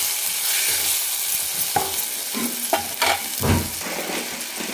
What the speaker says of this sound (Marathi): टाकून घेतले सगळे मसाले आणि छान मिक्स करायचं